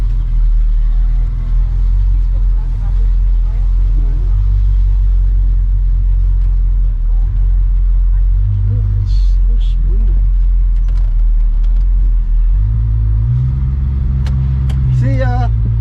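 A Pontiac car rumbles close by with a deep, steady engine note as it drives off, the pitch rising toward the end, while people talk over it.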